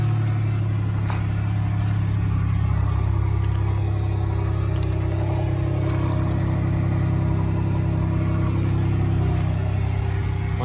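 A lifted Chevrolet Silverado pickup's engine runs steadily after being cranked, a loud, close, continuous low rumble with no talking over it.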